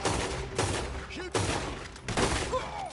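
Pistol fire and heavy gunfights from the video game Red Dead form a dense, loud barrage of overlapping shots and thuds, swelling in three bursts with no pause between them.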